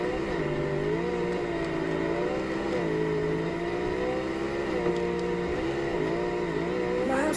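Truck engine in a racing video game, a steady droning hum with rising and falling pitch sweeps as it revs, continuous and fairly loud throughout.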